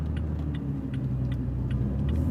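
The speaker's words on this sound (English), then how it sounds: "And there went another Tacoma" A Toyota Tacoma pickup truck drives past on a road, a steady car rumble heard from inside a moving vehicle with no talk.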